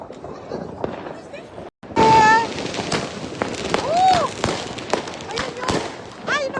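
New Year's Eve fireworks and firecrackers crackle and boom outside a store in the Netherlands in a dense, continuous barrage, with sharp pops and whistling bursts, while people talk and shout in the background.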